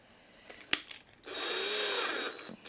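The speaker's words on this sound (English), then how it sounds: "Just put it into the drill." A power drill whirs steadily for over a second while screwing a wheel onto the rim of a Welly Aston Martin V12 Vantage model car, preceded by a few faint clicks and handling knocks.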